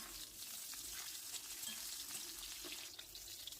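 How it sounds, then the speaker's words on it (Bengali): Pieces of catla fish and pointed gourd fry in hot oil, giving a steady soft sizzle and crackle throughout with faint stirring sounds, heard alone without voices. "ঠিক এইভাবে ভাজা হয়ে গেলে মাছগুলো তুলে রেখে ওই তেলের মধ্যে পটলটা ভেজে নিতে হবে।"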